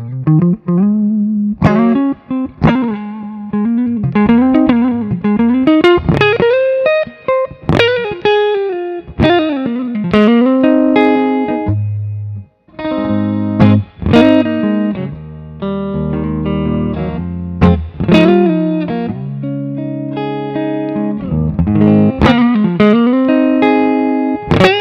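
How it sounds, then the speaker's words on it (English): Clean electric guitar on the neck pickup, played alone through an amp, single notes and chords ringing with a touch of reverb, phrases flowing steadily with brief pauses. "this is the neck pickup. I'll just run it clean through the amp, a little reverb."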